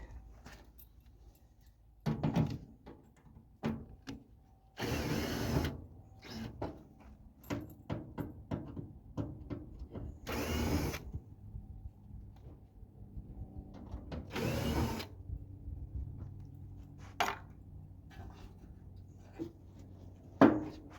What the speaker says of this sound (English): So let's take this front panel off